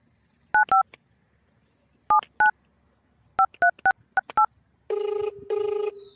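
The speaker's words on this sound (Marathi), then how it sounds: "त्या दुकानदारालाच फोन लावतो" A telephone keypad dials a number as a series of sharp dual-tone beeps in short clusters, followed by two longer buzzing tones, loud and close, with no talking.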